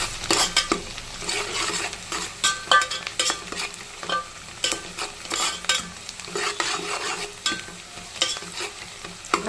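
Onions fry and sizzle in a pan with steady stirring, as a spoon or spatula scrapes and clinks against the metal in a busy, continuous rhythm close by, with no one talking.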